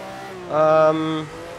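A 1967 Ferrari 312/67 Formula One engine at the Nordschleife in Grand Prix Legends gives a brief, tonal engine note that swells, holds for a moment and then fades back to a steady drone.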